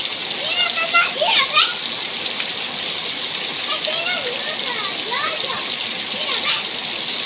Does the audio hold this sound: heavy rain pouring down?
yes